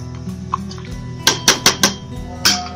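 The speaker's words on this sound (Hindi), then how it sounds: "अच्छे से हिला देंगे।" Soaked rice being stirred into a pot of yakhni pulao, with a few sharp metallic spoon knocks against the pot wall in quick succession over a low steady background, no talking.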